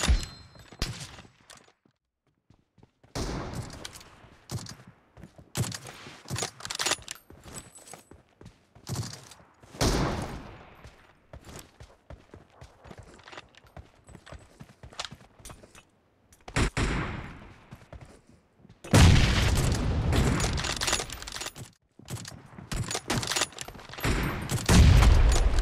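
Gunfire in the mobile game BGMI during a team deathmatch with an M24 sniper rifle: sharp, loud shots and rapid bursts come in irregular clusters, broken by short silent gaps and a dense stretch of fire near the end.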